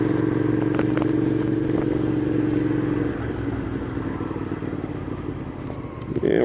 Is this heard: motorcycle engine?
yes